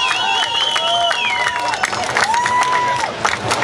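Crowd at a motorcycle quarter-mile drag race event in Tasquillo applauds and cheers a second-place winner in the 600 class, a steady wash of clapping and shouts with tonal music running underneath.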